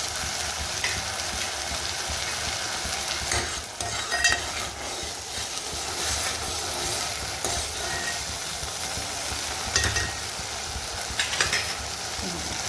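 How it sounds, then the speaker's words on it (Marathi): Halim seeds crackle and sizzle in hot ghee, with steady stirring and scattered clicks of a spoon against the pan, close and continuous, and no voices. "मस्त घीमध्ये असा दोन तीन मिनिट परतून घ्यायचा आहे हालिम"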